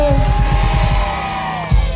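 A church congregation at a New Year blessings meeting shouting "amen" loudly together, a dense crowd roar with rhythmic low pulses, as if from clapping or stamping, that swells and then briefly bursts louder near the end.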